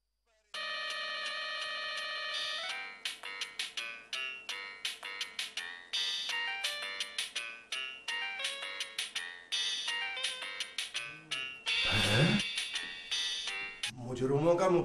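A mobile phone rings on a dialed call, a loud repeating electronic ringtone melody with bursts of notes over a steady tone, continuing for most of the stretch before a louder sweeping warble near the end.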